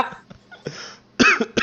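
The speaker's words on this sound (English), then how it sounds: "Tired of this cough." Several sharp, close coughs from a man, bursting out in a quick cluster near the end after a brief throat-clearing, with no talking over them.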